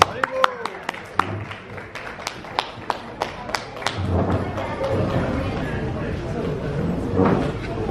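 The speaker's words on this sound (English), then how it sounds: "a big round of applause, please" Applause breaks out at a temple fundraising dinner. A few sharp, separate claps and thuds come first, then a fuller round of applause swells and carries on, with voices murmuring faintly underneath.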